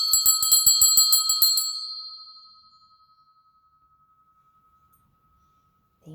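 A single bell strikes once, ringing clear and bright, then rings out and fades slowly over a few seconds into near silence in a quiet room.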